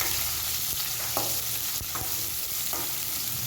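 Chopped onions and green chilli sauté in hot oil in a pan, a steady close sizzle broken by a few soft scraping stirs.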